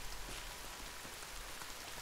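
Steady rain falls in the survival video game The Forest, a dense, even hiss of drops on surfaces that continues without pause and with no voices.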